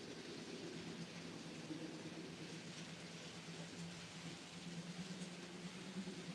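An HST train drives along in the Train Simulator video game, heard as a steady, even rumble and hiss of engine and rolling wheels that stays constant and fairly quiet throughout, with no talk over it.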